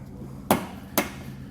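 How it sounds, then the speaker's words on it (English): Two sharp, close clicks about half a second apart as a flathead screwdriver pries a plastic push pin fastener loose on a 2022 Mazda CX-5, with no talking. "Just use a flathead to kind of pry it out"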